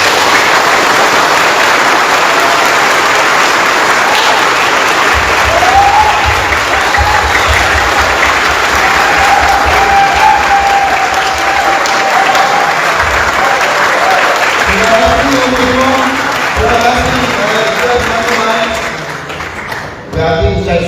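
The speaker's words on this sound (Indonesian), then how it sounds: "mari kita sambut dengan tepuk tangan bersama" Loud, sustained audience applause at an Indonesian forum, a dense roar of clapping from a large crowd with occasional voices and bursts, tapering off toward the end.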